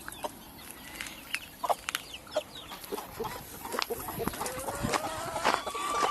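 A flock of large, hungry hens on a farm cluck and squawk in scattered, irregular bursts, fairly close, with occasional louder calls standing out over quiet background rustling.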